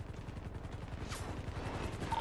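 Gunfire in a GTA roleplay shootout with police after a jewellery store holdout, a rapid string of distant, muffled shots in a steady automatic rhythm, no talk.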